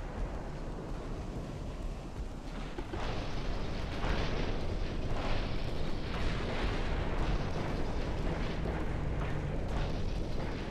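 Naval guns firing in the warship game Ultimate Admiral: Dreadnoughts, heavy booming blasts layered over a continuous rumbling roar that swells after a few seconds and stays loud.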